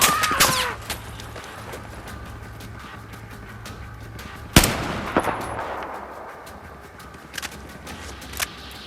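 Gunfire in Battlefield 4: sharp, loud shots crack out at irregular intervals, a cluster early, a strong blast midway and scattered rounds later, over a steady low in-game rumble.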